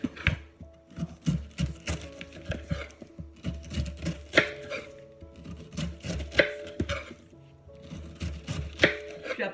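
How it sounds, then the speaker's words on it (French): A small pineapple being cut and peeled down to the flesh with a knife, giving repeated rhythmic slicing and chopping thuds with scraping strokes in a close, busy kitchen. "donc un petit ananas, je le découpe comme ceci. Je pèle, on appelle ça à vif."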